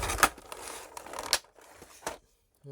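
Unboxing a Kid Buu collectible figure: a few sharp, close crinkling and tearing bursts of cardboard and plastic packaging, separated by short quiet gaps, with no voices.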